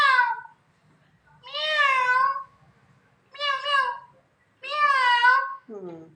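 A voice imitates a cat, giving four drawn-out meows with short pauses between them and a brief babble at the end. The meows are close and clear over a quiet background.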